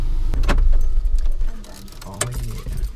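The little switchblade key of a 2010 Volkswagen GTI jangles in a couple of brief metallic rattles over a low rumble, with voices talking around it.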